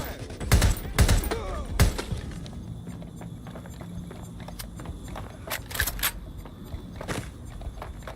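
Gunfire in Watch Dogs Legion: a few loud, close bursts of shots early on, then scattered sharper cracks and impacts over a busy background of game sounds.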